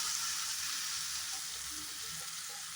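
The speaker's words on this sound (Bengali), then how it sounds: "তেলটা গরম হয়ে গেছে, এখন গ্যাসের ফ্লেমটা একটু বাড়িয়ে দিলাম, বাড়িয়ে দিয়ে এই যে ম্যাগিটা এখানে দিয়ে দিলাম" Soaked Maggi noodles hitting hot oil on a gas flame, giving a steady, even hiss of frying that holds at a constant level throughout, close but fairly quiet.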